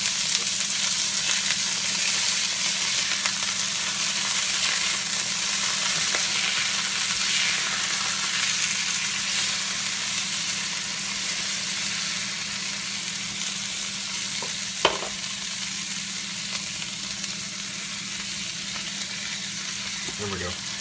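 Burger patties sizzle steadily on a hot griddle while being topped with mustard and cheese for In-N-Out animal style burgers, a loud even hiss running throughout with one brief sharp click partway through.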